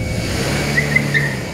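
A car drives along with a steady, moderately loud engine hum and road rumble from inside the vehicle, during a follow-that-car scene in a Turkish drama. There are no prominent revs or passes.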